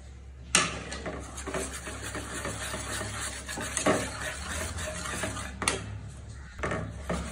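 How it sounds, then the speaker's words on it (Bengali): A hand whisk beats bundiya batter in a bowl with continuous rapid scraping and swishing, punctuated by a few sharper knocks against the bowl's side, close and moderately loud, with no speech. "আমি একটু হ্যান্ড উইস্কের সাহায্যে খুব ভালোভাবে এটাকে মিক্স করে নিচ্ছি"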